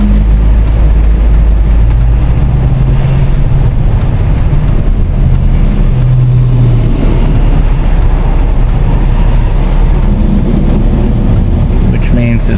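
Road traffic on a highway in Jackson County, Missouri, starts moving again after being held up, a continuous loud rumble of cars and larger vehicles close by, with voices talking over it.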